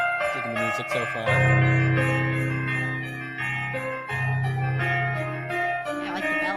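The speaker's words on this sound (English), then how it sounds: "Yeah, I like the bells." Bright jingling bells ring through a festive tune, layered over sustained tones and a steady beat.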